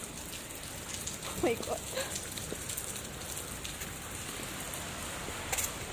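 Steady rain falls on a Thursday morning, a constant hiss of drops on surfaces throughout, with a person briefly exclaiming over it.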